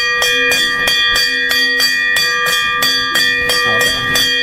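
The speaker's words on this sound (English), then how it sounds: "Sellout bell, subscribe to Technoblade." A bell rings repeatedly in a steady, fast rhythm, bright metallic strikes with sustained ringing tones, loud and close, with no talking.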